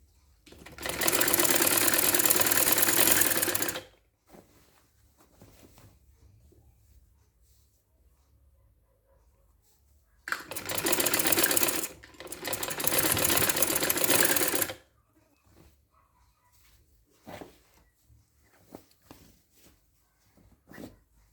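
A sewing machine stitches the neck area of a kameez in two loud, steady runs of motor whir, the first about three seconds and the second broken by a brief pause, with quiet handling sounds between and after.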